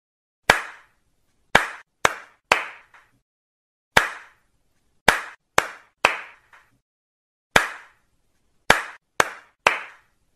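Single hand claps in a counting pattern, sharp and close in a quiet room, grouped as one, then three, then alternating one and three with short pauses between groups.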